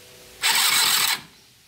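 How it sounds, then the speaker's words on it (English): A small mini UTV engine cranked over by bridging the starter solenoid, a loud, fast whirring spin lasting under a second, then cutting off abruptly with no firing. "Engine cranks when you touch the solenoid together."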